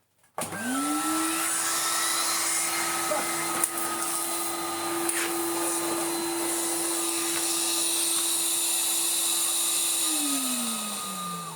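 A Numatic BX190 vacuum cleaner with its hose fitted starts up, its motor spinning up to a steady loud whine that holds for about ten seconds before winding down at the end.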